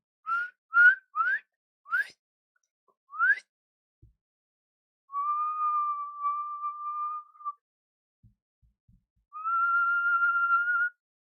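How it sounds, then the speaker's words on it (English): Someone whistling while drawing breath inward: a run of short rising chirps, then two long steady held tones, clear and close in a quiet room. "What notes can you reach whistling in?"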